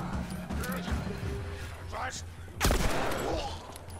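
Gunfire from The Last of Us played on hard mode, several shots scattered through busy game sound, with one loud close blast near the end and a voice talking throughout.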